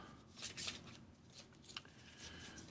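Board game cards for a football manager game being shuffled by hand, soft papery riffles and rustles in short bursts, quiet and close with no talk.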